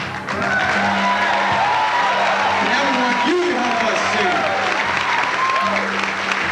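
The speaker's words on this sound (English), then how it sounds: "How about a clap for us?" Sustained applause from an audience at a medical school follies show, dense steady clapping filling the room, with some cheering voices and a musical tone running underneath.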